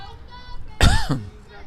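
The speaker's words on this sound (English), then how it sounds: "Excuse me on the cough there." A single sharp cough bursts out near the microphone of a commentator at a youth baseball game, brief and loud, standing out against faint background voices and room noise.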